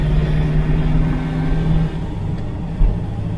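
A 1970 Camaro project car on the road, with the engine giving a steady, close, heavy rumble that dips slightly partway through. No one speaks.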